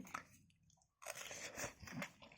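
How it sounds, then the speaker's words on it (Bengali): Close chewing of chow mein at home, soft crunchy and moist bites with a short pause before a steady run of chewing, faint and intimate with no talk. "আমি খেয়ে বলছি কীরকম হয়েছে"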